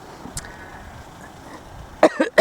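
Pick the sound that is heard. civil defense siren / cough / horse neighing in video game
cough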